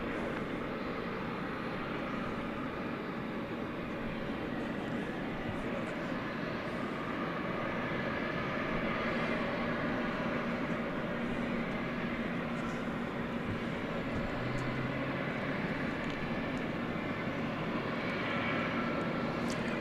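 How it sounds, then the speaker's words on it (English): A Boeing 767 jet at DFW Airport at night sends out a continuous far-off engine rumble and whine that builds slightly toward the end, with faint talk in the background. "Also more 767 action for you here."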